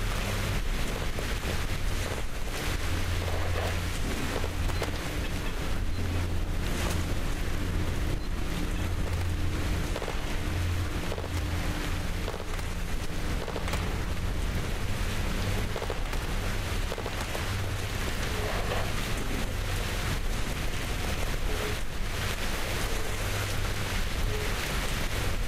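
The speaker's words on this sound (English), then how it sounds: "I may turn off the raindrops." Steady rain patters and hisses without a break in the video game Stalker Clear Sky, with a low rumble beneath it and no voices.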